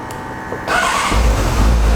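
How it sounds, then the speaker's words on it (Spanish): A Honda Hornet motorcycle engine starting: a brief cranking whir, then the engine catches and settles into a loud, rumbling idle, close by. "Arranco la moto."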